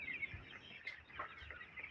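Many four-to-five-day-old broiler chicks, some sick with pneumonia, peep and cheep together in a continuous, faint high-pitched chorus, with scattered overlapping calls.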